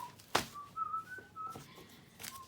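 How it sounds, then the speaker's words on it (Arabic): Person whistling a short, wavering tune in a few sliding notes, fairly faint and alone, with a sharp click near the start. "بطل صفير في دماغي"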